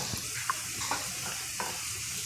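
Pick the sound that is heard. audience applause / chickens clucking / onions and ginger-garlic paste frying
onions and ginger-garlic paste frying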